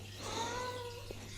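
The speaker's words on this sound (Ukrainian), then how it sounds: "тут це моя кішка Мія" A house cat gives a drawn-out, wavering meow at moderate distance over a steady low electrical hum, with a brief soft knock near the end.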